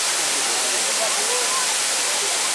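A waterfall roars with dense, steady rushing water, loud and continuous, while faint voices murmur underneath.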